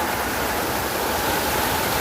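Water pours steadily down a concrete wall-like weir, producing a dense, continuous rushing roar that stays close and loud throughout, with no voices over it.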